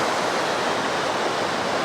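Water rushes beside the path to Yongmunsa temple in Yangpyeong, Korea, from a somewhat artificial-looking water feature. It makes a loud, steady, close wash of sound with no voices.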